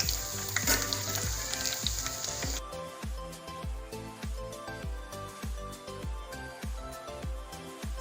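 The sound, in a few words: cumin and garlic frying in oil and ghee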